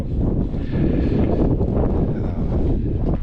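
Wind blows hard at an outdoor airfield, a loud, steady low roar buffeting the microphone throughout with no voices.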